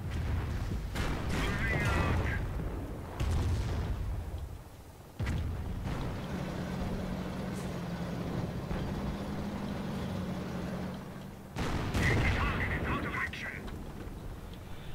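A mortar team fires in the Company of Heroes video game: several heavy booming blasts and bursts of gunfire rumble across a busy battlefield, with a softer, steady droning stretch between the loudest impacts.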